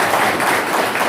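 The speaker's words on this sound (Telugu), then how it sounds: "క్లాప్స్ కొట్టండి" An audience at a Mother Teresa & Madhavi Junior College student felicitation applauds, a loud, dense wash of steady clapping with no pauses.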